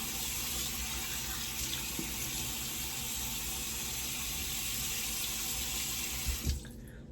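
Water pours steadily from a tap into a sink, a constant close hiss that stops abruptly near the end.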